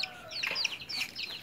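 Chickens near a backyard by a river give a brief, faint burst of clucking and crowing calls, a few short squawks close together.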